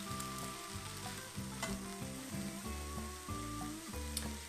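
Pressed garlic cloves with pepper are stirred in a frying pan, a faint continuous sizzle beneath quiet rhythmic backing music, with a few brief scraping ticks.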